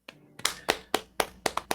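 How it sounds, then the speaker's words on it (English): A handful of sharp, separate hand claps ring out close by in an uneven rhythm, about seven in under two seconds, with no voices. "let's clap it up."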